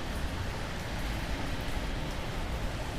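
Steady rain falls and blows under a station canopy in downtown Bristol, a dense, even hiss that holds at the same level throughout, with no voices.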